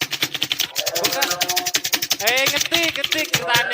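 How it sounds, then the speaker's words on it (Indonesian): Rapid clacking keystrokes of a manual typewriter typing out a proclamation text in a short Indonesian Independence Day school drama, steady rhythmic taps close by with people talking over them. "Sayuti Melik pun mengetik naskah proklamasi beserta perubahannya"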